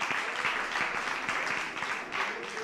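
Sustained applause from a crowd at a launch event, a dense continuous patter of clapping at moderate distance, fairly soft and steady throughout, with some individual claps standing out and no speech.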